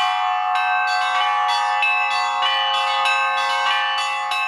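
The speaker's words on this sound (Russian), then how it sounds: "позвонить на монастырской колокольне" Large monastery bell tower bells on Valaam ring in a steady, overlapping peal during a festival, repeated strikes roughly every half second with rich sustained tones, loud and close.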